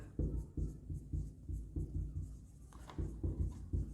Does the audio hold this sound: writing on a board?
yes